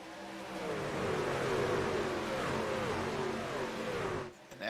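Race trucks accelerate together after a green-flag restart, a loud layered engine roar with wavering revs that swells and holds, then drops away briefly at the end.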